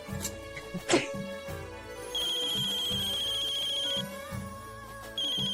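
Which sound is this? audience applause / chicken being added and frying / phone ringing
phone ringing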